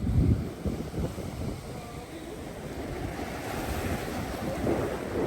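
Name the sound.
strong ocean waves crashing on a beach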